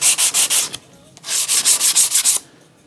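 Sandpaper rubs over the wooden edges of a small jewelry box drawer in two quick runs of rhythmic, loud strokes, close up, with a short pause between them.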